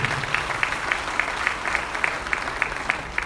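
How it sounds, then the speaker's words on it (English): A crowd at a hall of fame banquet applauds steadily, with dense clapping throughout and a few sharper claps standing out in a regular pattern. "Let's give her another round of applause"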